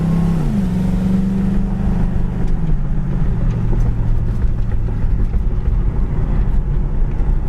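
A 1978 Pontiac Trans Am driving along a bumpy road, its engine a steady low rumble with a falling tone as it shifts, wind and road noise constant and close throughout, no talking.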